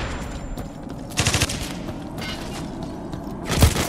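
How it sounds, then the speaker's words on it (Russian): Bursts of automatic gunfire crackle in short volleys in the shooter game Hired Ops, with a sharp blast near the end that may be a grenade, all close and punchy over a low background rumble. "Граната!"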